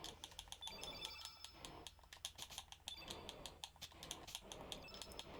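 Rapid plastic clicks of a game controller D-pad during a Chrono Cross session, picked up faintly by a microphone as a steady stream of small taps over low background hiss.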